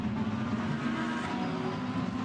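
A safety car leads GT World Challenge race cars around Imola, giving a continuous, dense roar of engines that holds steady throughout without a break.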